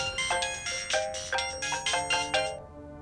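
A phone's ringtone for an incoming call chimes in a quick repeating pattern of bright electronic notes, loud and close, stopping abruptly after about two and a half seconds, with no talk.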